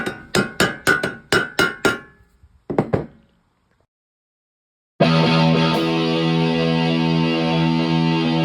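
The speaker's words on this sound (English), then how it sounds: "And you're just going to tap, preferably to the rhythm of YYZ." Old pinball machine legs being tapped with a hammer in a quick rhythmic pattern, about eight sharp close metallic knocks, then a couple more, a pause of silence, then a loud distorted electric guitar comes in.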